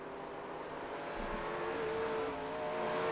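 Race cars running through the carousel at Watkins Glen, a steady engine drone heard from a distance with a faint rising whine and no voices over it.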